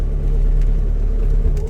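An old Toyota car without power steering is driving, heard from inside as a loud, steady low engine and road rumble with no speech.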